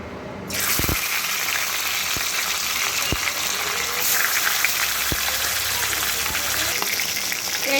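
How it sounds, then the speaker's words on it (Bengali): Dense, rain-like crackle of fish heads frying in hot oil, steady throughout, broken by a few sharp taps and knocks from turning the pieces. "এইভাবে উল্টে পাল্টে মাছের মাথাগুলোকে একটু কড়া করেই ভেজে নিচ্ছি"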